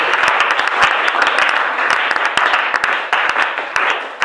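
A congregation in a church applauds, close dense clapping that carries on steadily throughout.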